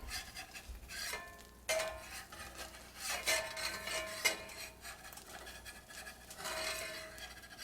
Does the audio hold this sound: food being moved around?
yes